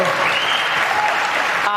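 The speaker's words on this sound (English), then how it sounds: "all these conservatives in the audience are cheering for her" A large Fox News studio audience applauds Tulsi Gabbard, a dense, steady wash of many hands clapping at close range that stops abruptly near the end.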